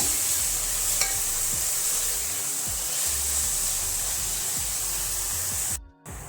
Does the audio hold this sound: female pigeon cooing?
no